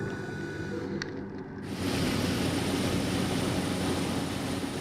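Small propeller airplane flying over the Great Barrier Reef, a continuous engine drone that swells fuller and louder after a short quieter stretch near the start, no talk.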